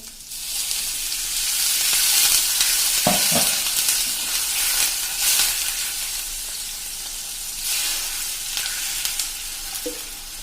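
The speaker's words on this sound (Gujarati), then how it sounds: "હવે આમાં આપણે 2 કપ જેટલું પાણી નાખી દેશું" Water poured into hot oil for a kachori tempering sets off a loud, steady sizzle and frying hiss that fills the whole stretch, with a few brief stirring knocks.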